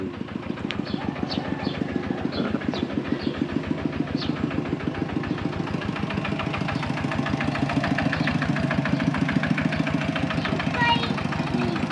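A tractor engine chugs steadily at idle, a close, rhythmic diesel putter that continues throughout with a slight rise toward the end.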